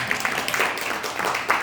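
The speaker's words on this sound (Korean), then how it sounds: "박수 한번." An audience claps at a Korean lecture gathering, a short burst of brisk, scattered hand claps at moderate volume that continues evenly without any speech.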